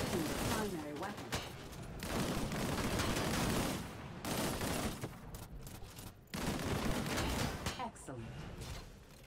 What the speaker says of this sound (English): Engage the enemies ahead using the primary weapon.